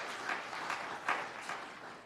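A church congregation applauds at a Flower Communion service, a soft, steady wash of clapping with a few louder swells, lasting about two seconds at moderate distance.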